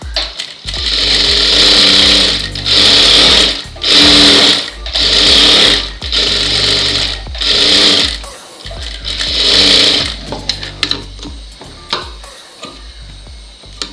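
A sewing machine stitches along a blouse edge in loud, close bursts of rapid whirring, about seven runs separated by short pauses, with a few quieter clicks and handling sounds at the end.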